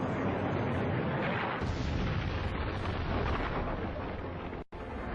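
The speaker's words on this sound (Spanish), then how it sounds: "Lo que sucede es que tenemos una enorme explosión" A huge explosion from a celestial body impact, rendered as a loud, sustained, broadband roaring rumble with heavy low end, filling the whole span with a brief dropout near the end.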